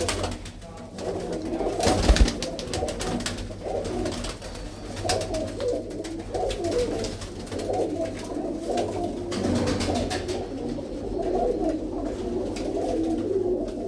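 Several blue-footed pigeons coo continuously inside a loft, their low rolling calls overlapping close by, with a brief knock near the start and a faint murmur beneath.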